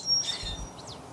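Small birds chirp outdoors in the morning, a few short high tweets and a quick downward call close by, over soft background ambience.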